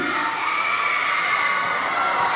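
Girls in the crowd at a basketball finals game shout and cheer in a steady, loud wash of high voices, sustained throughout without a break.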